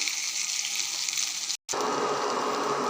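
Onion chili paste frying steadily in a pan for bitter gourd onion karam, a dense continuous sizzle with one brief cut partway through, no voices.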